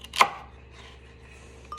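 A single sharp knife chop on a cutting board while prepping vegetables, close and crisp, followed by quiet room tone and a faint tap near the end.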